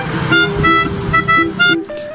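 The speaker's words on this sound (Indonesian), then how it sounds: "Ini bro, lagi main basuri." Telolet-style basuri horn melody played on a bus, bright tonal toots in a rapid repeating pattern of short honks, loud and close, ending with a brief lower tone.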